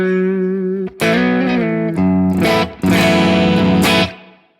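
A Gibson Les Paul electric guitar in the middle pickup position at low gain rings out close and loud: a held note, then a run of plucked notes and strummed chords that sustain and fade at the end.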